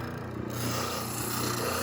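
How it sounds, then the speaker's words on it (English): Steady, close-up scratchy rubbing of sandpaper on wood, a continuous abrasive rasp without clear breaks. "this is how you would be sanding"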